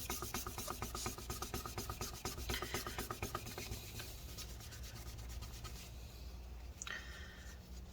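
Residue is scrubbed off the inside of a late 2016 15-inch MacBook Pro A1707 during a battery replacement, producing quiet, rapid back-and-forth rubbing strokes close by, steady at first and then more irregular.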